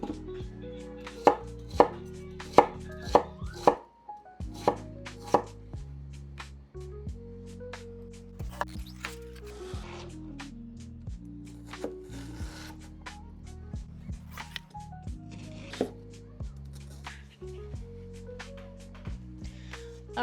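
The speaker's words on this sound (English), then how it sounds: "now we got our onion nice and diced up" Knife dicing an onion on a cutting board, sharp chopping taps striking in quick irregular bursts, close and distinct, with soft background music running underneath throughout.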